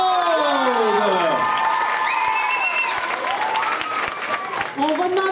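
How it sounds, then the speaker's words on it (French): A crowd at a 2014 secondary-school talent show claps and cheers for all the performers. Loud whoops and rising, falling shouts ride over continuous clapping close by. "Alors, une bonne dernière main d'applaudissement pour tous nos artistes,"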